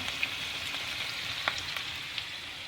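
Potatoes fry in a pan, giving a steady, close, continuous sizzle with small crackles and pops and no talking.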